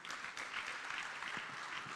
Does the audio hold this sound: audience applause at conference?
yes